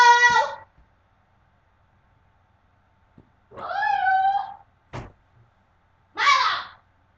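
Meows from a house cat, three separate calls spaced a few seconds apart with a brief knock between them, close and fairly loud in a quiet indoor room.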